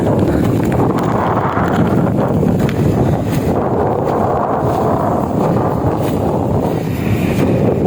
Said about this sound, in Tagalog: Kanami hangin mabasko.